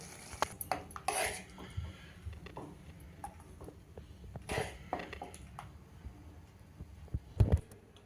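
Matar usal in red gravy is served from a metal pot into a bowl: scattered spoon clinks and scrapes, a couple of louder knocks, and a faint background hum, with no talking.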